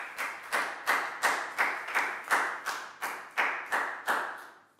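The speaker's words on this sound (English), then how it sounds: "High five and a big round of applause for Prel," A classroom of children claps for a student after a maths lesson, about a dozen distinct, evenly spaced group claps in a steady rhythm, fairly close and alone.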